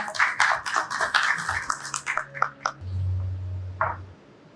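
Conference audience applause at the IDC Türkiye DX Summit 2024 welcoming a presenter to the stage: a burst of many hands clapping that thins out and fades after about two seconds, followed by a low hum and faint sounds.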